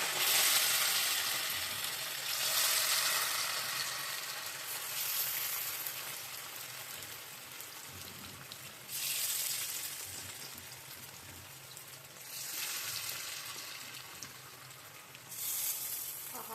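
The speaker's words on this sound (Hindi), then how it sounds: "तो यहाँ मेरा तेल गर्म हो गया है, अब इसमें मैं एक एक करके डाल रही हूँ अपनी मछली को।" Fish pieces frying in hot mustard oil for a Bihari-style fish curry, a steady broadband sizzle that swells in several bursts as pieces are added, close and continuous with no talking.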